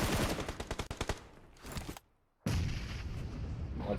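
Rapid bursts of automatic gunfire in PUBG Mobile during an Erangel tournament match, loud and close, pausing briefly into near silence before a dense stretch of continuous firing resumes.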